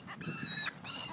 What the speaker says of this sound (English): So many seagulls.